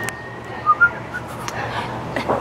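Someone attempting to whistle while puckering for a kiss produces a couple of brief, faint whistled blips amid breathy air noise, with no speech.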